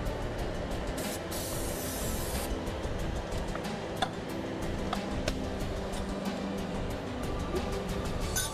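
Steady hiss of an aerosol spray can in one continuous burst of a couple of seconds, then scattered rubbing and clicks nearby, no talk.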